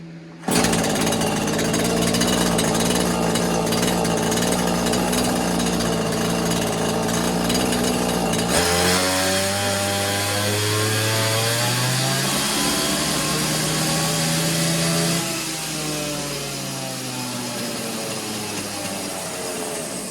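A Neotec 843 43cc chainsaw, a Husqvarna 543XP clone, runs loud and steady at high revs. It drops to a lower idle partway through, then climbs and settles again, with no talk over it.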